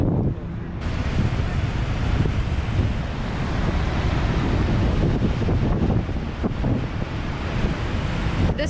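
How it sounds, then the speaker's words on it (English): Water rushes over Niagara Falls in a loud, unbroken roar, buffeted by strong wind gusting across the microphone, close and constant from start to finish. "This spot right here where you're just right next to all the water rushing over"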